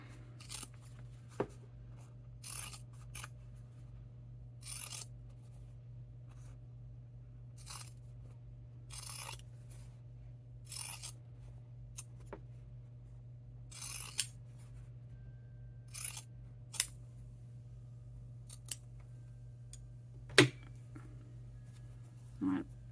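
Scissors trim between the seams of fabric pieces for a quilted holiday stocking. Close, quiet snips come one or two at a time at irregular intervals over a faint steady hum.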